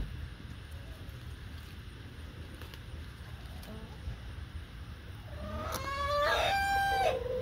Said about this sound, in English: Happy chickens today.